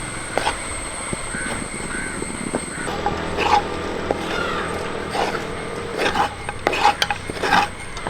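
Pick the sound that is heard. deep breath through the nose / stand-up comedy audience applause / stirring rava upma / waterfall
stirring rava upma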